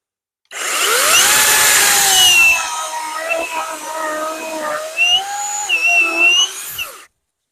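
Worx WG385E cordless battery chainsaw cuts through a firewood log, its motor whining up loudly at first, then a strained, wavering cut with pitch sliding as the chain bites, ending sharply.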